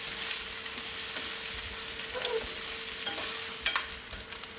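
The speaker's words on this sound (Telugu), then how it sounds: "ఆ తర్వాత ఒక పెద్ద సైజు ఉల్లిపాయను కూడా కట్ చేసుకొని వేసుకొని ఫ్రై చేసుకుందాం." Green chillies and a chopped large onion fry in a pan with a soft, continuous sizzle, and a few light stirring clinks come toward the end.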